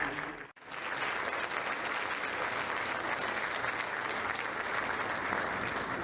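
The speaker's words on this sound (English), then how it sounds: "Let's give a big round of applause to all of our inductees." A hall of fame audience applauds inductees at a high school athletic ceremony, dense sustained clapping from a large crowd after a brief pause at the start, with no voices over it.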